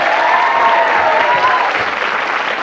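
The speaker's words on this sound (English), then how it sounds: "Give them a round of applause." Studio audience applause on a 1991 television game show, a loud, even wash of clapping from a crowd, continuous throughout with a faint cheer mixed in.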